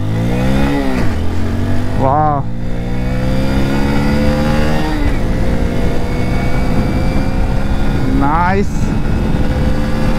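A 2023 Hero Passion Plus 100 BS7 motorcycle pulls away hard from low speed, its engine note rising through several gear changes with sharp climbing sweeps, loud and close, with brief exclamations from a rider over it.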